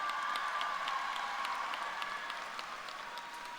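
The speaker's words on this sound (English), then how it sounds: "Let's give a round of applause." Graduation ceremony audience at an arts school giving a round of applause, a broad, steady clapping roar from a large crowd with a few sharper claps, gradually easing toward the end.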